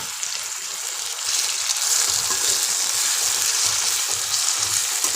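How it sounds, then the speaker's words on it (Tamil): Greens, coriander and slit green chillies hit a hot pan and sauté with a loud, steady sizzle and hiss that swells after the first second and then holds, close and continuous. "இது எல்லாத்தையும் அதில் போட்டு வதக்கிடலாம்."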